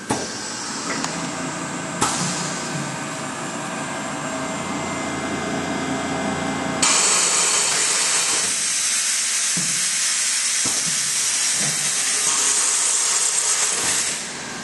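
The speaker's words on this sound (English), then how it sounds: "And that's how fast you can drill" A steady mechanical hiss and whine of an Atwood ITGD1200 glass drilling machine boring a hole through glass, continuous and close, growing louder partway through.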